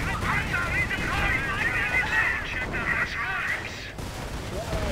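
Gunfire in Company of Heroes, a dense continuous rattle of distant machine guns and rifle fire with rumbling explosions, fading near the end as a voice talks over it.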